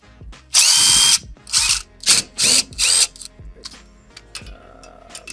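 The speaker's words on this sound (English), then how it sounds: "You can take these off with an impact drill" An impact drill removes bolts during a suspension install on a 2023 Chevrolet Silverado ZR2, firing a long burst, then three or four shorter loud bursts close by, followed by quieter ratcheting clicks.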